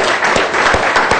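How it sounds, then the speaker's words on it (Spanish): Applause for the Aló Presidente team: a dense, steady wash of clapping from a crowd, loud and close, with rhythmic claps standing out through the roar and no talk over it. "Vamos a darle un aplauso al equipo de Aló Presidente por ese trabajo"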